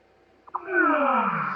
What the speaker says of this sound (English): That was the sound of Skype closing.